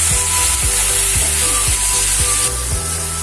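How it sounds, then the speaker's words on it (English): Spices, salt, chili powder, amchur and black salt being sautéed for pav bhaji, a loud sizzle with regular scraping strokes of a spoon against the pan, repeated roughly every half second, with no voices. "and saute them well."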